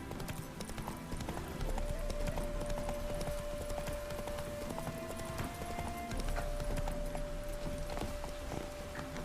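Roach the horse gallops in the game The Witcher 3: Wild Hunt, with rapid, steady hoofbeats running throughout, close and loud over a sustained musical tone.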